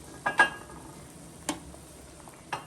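Corn cobs being lifted out of a cooking pot, a few soft clinks and knocks against the pot at irregular intervals, faint and close over a quiet kitchen background.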